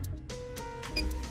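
A short electronic beep from the button on a Max Air roof fan as it switches on, heard once near the end over a low steady hum, with no talking.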